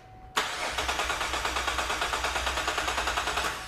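A car engine cranking over with the starter during a compression test, abruptly beginning and then a rapid, even chugging rhythm of about a dozen compression pulses per second, loud and close, without firing or speech.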